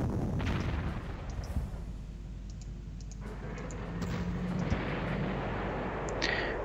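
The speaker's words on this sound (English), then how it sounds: "we also really want to trash this one now with artillery" Artillery bombardment in a D-Day war game: a steady, heavy rumble of distant shelling with scattered sharp cracks and clicks on top, continuous and fairly loud throughout.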